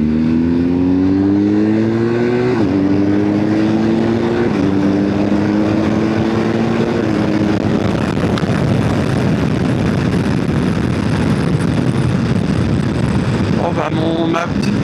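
BMW R1250GS Adventure motorcycle riding and shifting through gears, the loud engine note climbing in pitch and then dropping at each upshift, before the drone gives way to broad, steady wind and road roar.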